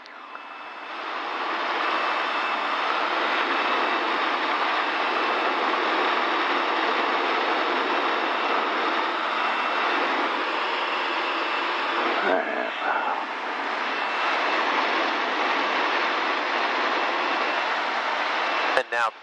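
Steady, loud drone of a small training airplane's engine in flight during a lesson, filling the cabin continuously for the whole stretch, with a brief dip and a faint click near the end.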